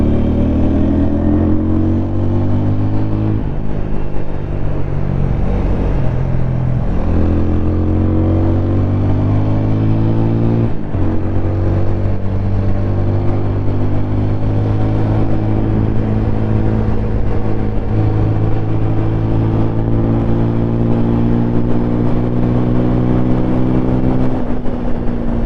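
A Pulsar RS 200 and an Apache RTR 200 motorcycle riding together, engines droning loud and close throughout, with rising and falling revs as they accelerate and ease off through sharp corners.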